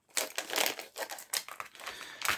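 Scissors snip and crinkle through plastic packaging, up close but quiet, with a quick series of crisp cuts and rustles that come in short irregular bursts.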